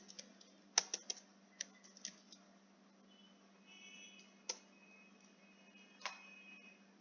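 A computer keyboard is typed on to enter a search query, with sparse soft key clicks and a short quick cluster, faint and close over a low electrical hum in a quiet room.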